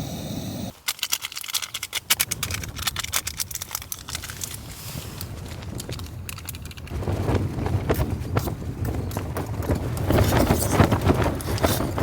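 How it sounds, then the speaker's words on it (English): Wind buffets hard outside a tent on a mountain during a rainstorm, a steady broadband roar that gusts and swells louder toward the end, with irregular flapping and rattling close by. "Looks like the wind's picking up a bit."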